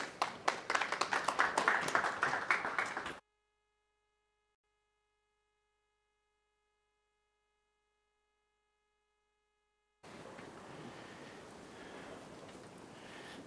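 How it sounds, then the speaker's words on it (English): At the Cape Town high-level IATF2021 roadshow, an audience claps in a brisk burst for about three seconds before the sound cuts to near silence, then returns as a low, steady room hum. "Please give him a round of applause."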